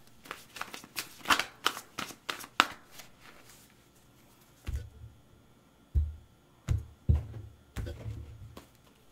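Tarot cards being shuffled and drawn, a quick flurry of close riffling snaps at first, then after a pause several soft, low thumps as cards are set down one by one.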